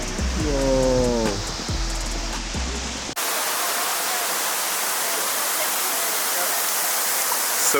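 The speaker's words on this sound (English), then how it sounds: "We found a secret waterfall." A hidden waterfall near Ubud, Bali, heard as a steady, broad rushing roar that continues unbroken for several seconds after a brief stretch of voices and other sounds at the start.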